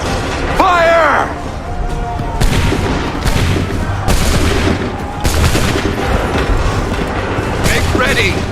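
Musket volley fire in Assassin's Creed 3: a battlefield din of overlapping gunshots and booms in several clustered bursts, loud and close, with shouted voices over it.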